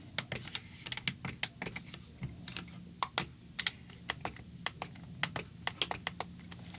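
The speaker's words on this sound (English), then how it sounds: "You can also hear the big Braille display, like the whole thing filling up and then blinking out, which is very noisy" Freedom Scientific Focus 80 Braille display clattering as its pins fill the whole line and blink out, a dense run of sharp, quiet, irregular clicks and taps at close range with no voices.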